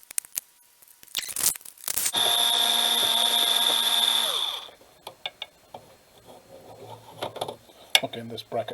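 Power screwdriver whirring steadily for about two seconds as screws come out of a Teac A-6300 reel-to-reel deck, bracketed by brief clicks and handling knocks on the chassis before and after.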